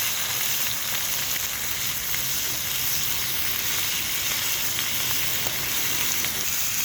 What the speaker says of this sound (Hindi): अब हमारा कलेजी फ्राई हो चुका है।